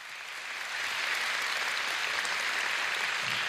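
Steady, dense applause from a concert audience for the orchestra at a laureates' gala of the Carpathia song festival, building over the first second and then holding at an even, full level.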